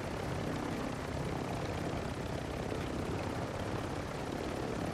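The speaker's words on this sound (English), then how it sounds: "Shooting my helicopter." A helicopter's rotor drones steadily in a military shooter game, a loud, dense, continuous whir with no break and no voices.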